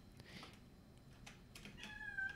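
A cat gives a few soft meows, ending in a clearer drawn-out cry, faint and indoors against a low background hum, with no talking.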